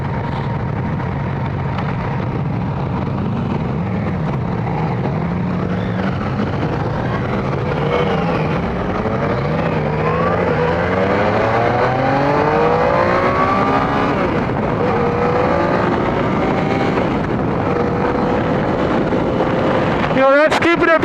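Yamaha FZ-09 motorcycle on a demo ride: continuous engine drone mixed with heavy wind roar, the engine pitch rising and shifting at moderate throttle, loud and close throughout.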